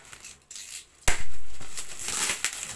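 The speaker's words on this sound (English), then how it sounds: "It's kind of tough to unwrap this bad boy." Stiff packaging for a Mitsushi XH-628A portable air compressor being pulled and torn open, with sharp crinkling and ripping bursts after a quieter start, close and loud with no talking.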